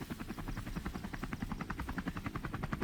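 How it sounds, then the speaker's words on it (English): Helicopter rotor chop throbs in a rapid, steady pulse at moderate distance, a continuous rhythmic beating with engine whine beneath, during Vietnam War air insertions. "The operation began with a series of helicopter insertions into suspected base areas."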